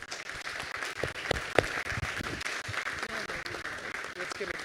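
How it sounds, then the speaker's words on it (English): Applause from a conference audience at a project management forum in India, dense and continuous clapping with voices mixed in underneath. "And now a big applause"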